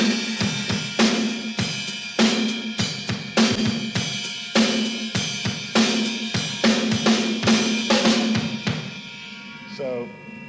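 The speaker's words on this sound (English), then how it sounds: "I'm always playing eighth notes with my hi-hat, so it would sound like this" Drum kit in a progressive hard rock style: a hi-hat ticks steady eighth notes under a 2-4 backbeat, with regular sharp hits forming an even, close groove that stops just before the end.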